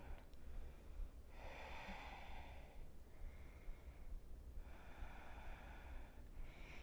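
Deep, rhythmic breaths in and out during mindful weight training, heard close as repeated airy inhales and exhales, each lasting about a second or two, with short pauses between.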